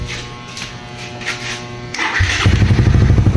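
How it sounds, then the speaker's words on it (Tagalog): A carbureted Suzuki Raider 150 motorcycle fitted with a full-wave setup cranks with a brief electric whir, then its engine catches and settles into a loud, close, steady buzzing idle. "Start ang makina."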